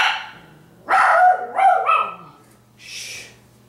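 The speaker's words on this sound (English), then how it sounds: "you better shut your dog up" A single dog barks a few times in close succession, loud and near, followed by a fainter breathy sound, with no talk over it.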